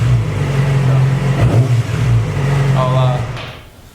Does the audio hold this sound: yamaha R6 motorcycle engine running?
yes